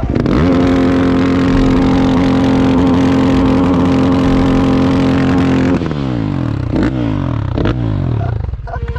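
A dirt bike engine held at a steady high-revving drone for several seconds, close and loud, then dropping into a few rising and falling throttle blips as the revs settle.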